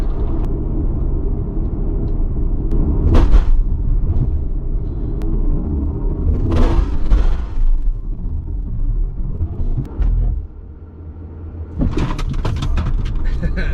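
Tesla Model X launching hard with a little wheel spin, heard as a loud, steady low rumble of road and cabin noise with short surging bursts and a dip near the end.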